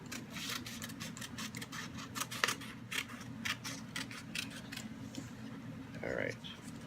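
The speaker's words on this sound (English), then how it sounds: "I'm gonna cut this up. Cut it up real good." Scissors snipping through paper at close range, a quick run of crisp cuts followed by slower, spaced snips, with a faint voice murmuring in the background.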